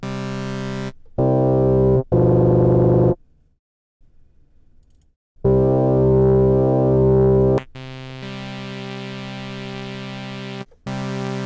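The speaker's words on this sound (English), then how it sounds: "regular, plain as can be, synth square wave." A plain synth square wave playing sustained notes in separate blocks, rich in evenly stacked harmonics, loud and steady with a brief gap of near silence in the middle, no voices.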